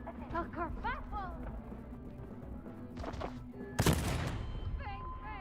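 In the video game Coast to Ghost, a sharp burst of gunfire erupts after a stretch of speech, the loud shots then trailing off as talking resumes.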